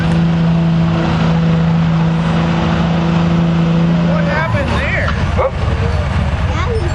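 A 2006 Dodge 3/4-ton pickup with a Cummins diesel engine pulls at a truck-pull event, its loud steady drone holding and then breaking off into rougher noise, while a person speaks over it.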